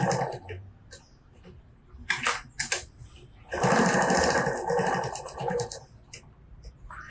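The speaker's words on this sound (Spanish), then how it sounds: "Y luego paso una costura ahí. Adelante y atrás como siempre." A sewing machine stitching a seam on a small multipurpose bag, running in short bursts forward and back with a longer steady run in the middle, close and clear, with no talking.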